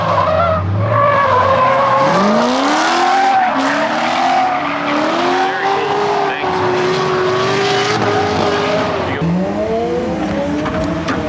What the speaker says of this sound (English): And we got some drifting.